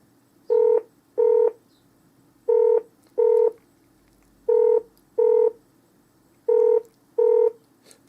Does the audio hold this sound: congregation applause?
no